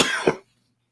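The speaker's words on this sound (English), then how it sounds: "One of these days I'll see a doctor about this cough." A single close, sharp cough from a man, a short harsh burst that ends abruptly in silence.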